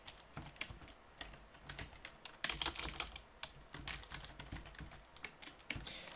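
Typing on a computer keyboard while writing code for an Android app, with quick irregular clicks and keystrokes that build into a denser burst partway through, heard close up and alone.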